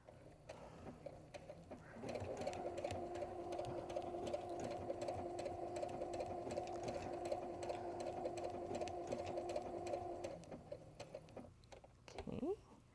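A sewing machine stitching fabric for an appliqué project runs in a steady, even whir for about eight seconds, quiet and close, starting and stopping with brief pauses before and after.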